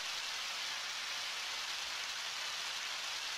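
Steady rain ambience in the video game Undertale, a continuous soft hiss of falling rain, even and unbroken, with no voices.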